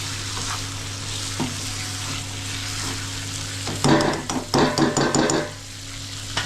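Liver fry with tender tamarind leaves is tossed in a hot pan, giving a steady sizzle and then a burst of loud scraping, clattering stirring strokes before the sizzle settles again.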